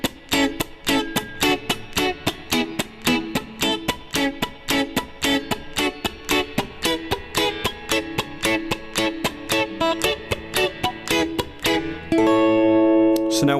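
An electric guitar plays upbeat reggae chords, short choppy offbeat strums in a steady rhythm, ending on a sustained ringing chord; no talking.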